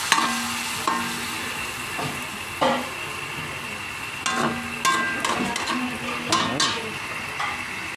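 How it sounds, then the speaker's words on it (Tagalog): Pork and chicken adobo frying in a pan, a steady close sizzle broken by occasional scraping and clinking as the meat is stirred, with little or no talking. "Piprito muna natin ng konti ang ating adobo, ang ating baboy sa manok"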